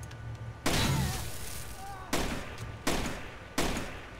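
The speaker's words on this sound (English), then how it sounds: "I think my incendiary grenade just makes that sound whenever I fire, whenever it explodes." An incendiary grenade going off in the video game Tom Clancy's Rainbow Six: Vegas 2, a series of four sharp blasts with crackling, shattering tails, spaced unevenly and loud against quieter game ambience.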